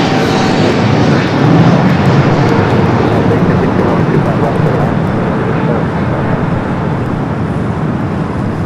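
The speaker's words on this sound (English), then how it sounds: "China Southern, the 777-300 ER coming from Guangzhou, running about 13 minutes behind flight 327" A China Southern Boeing 777-300ER arriving at Los Angeles airport from Guangzhou, its loud, steady jet roar filling the whole stretch with road traffic noise beneath and voices faintly present.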